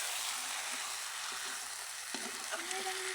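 Chicken pieces fry in a pan with mixed spices just added, a soft continuous sizzle with occasional stirring knocks close by.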